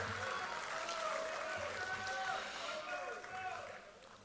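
An audience applauds and cheers at a political party assembly during the party president's policy address, a steady wash of clapping that stays loud throughout and overlaps voices.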